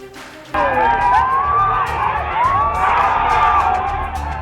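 An angry mob in Bihar shouts and yells at an elderly woman, a dense, loud wall of overlapping raised voices that is continuous and close.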